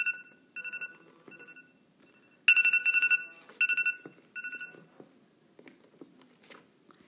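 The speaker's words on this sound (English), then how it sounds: "That was my alarm." A phone alarm goes off in a quiet room, a short bright electronic ringtone repeating in quick two-tone bursts and fading to stillness.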